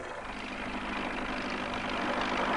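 A tractor engine idles steadily at a low, even chug, moderately quiet and constant throughout with no voices over it.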